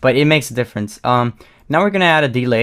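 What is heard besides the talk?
No everyday noises stand out.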